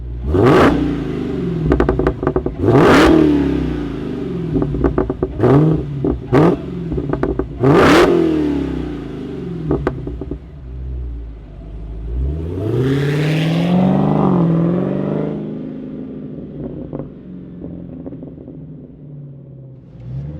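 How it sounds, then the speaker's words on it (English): Dodge Demon 170 V8 heard up close, with repeated sharp throttle blips and deep revs, followed by a longer rising acceleration run that settles into a rumbling idle. "We'll go for an on-throttle spin in my Demon 170 and discuss it."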